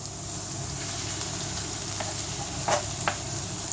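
Rabbit pieces brushed with mustard sizzle and fry with onion in a pan, a steady, close crackling hiss with a few sharper spits and pops toward the end.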